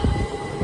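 A train rumbles along the railway at close range, a steady low roar of wheels and carriages with no talk over it.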